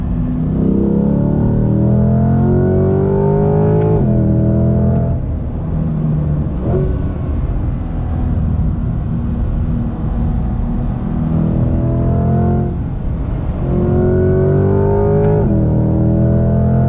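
A 2020 Chevrolet C8 Corvette Z51 sports car accelerates hard, its loud close engine note climbing through the gears in repeated rising sweeps with brief dips at each shift, and no talking over it.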